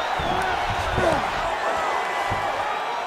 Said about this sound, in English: So the crowd absolutely loving it as these fighters work their way back to the feet.